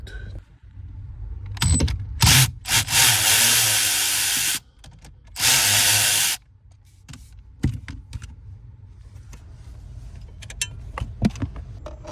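A power tool backs out a stubborn bolt inside a Hyundai Sonata during blend door actuator work: two sustained loud whirring bursts, then scattered clicks and handling sounds, up close and without speech.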